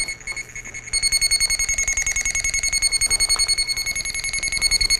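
Armada Technologies Pro300 sprinkler valve locator emitting a loud, rapid pulsing electronic tone, a high beeping signal that swells in strength after the first second and repeats steadily.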